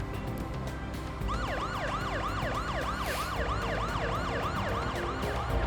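A police car siren in the game Parasite Eve wails in a rapid repeating up-down cycle over a steady engine rumble, loud and close without any talk.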